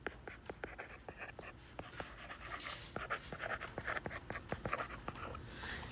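A marker or chalk taps and scratches across a classroom board while a geometry problem is worked out, a quick run of crisp, irregular strokes and clicks close by, with no talking.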